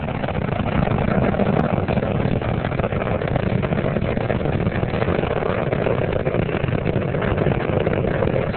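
Space Shuttle Columbia's engines thunder during the STS-87 launch in November 1997, a loud, dense, unbroken roar that holds steady for the whole stretch.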